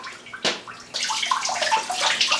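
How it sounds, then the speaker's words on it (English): A toilet flushes with pickles in the bowl, a sharp splash followed by a steady rushing gurgle of water, close and alone with no voices. "let's see if we can flush them down."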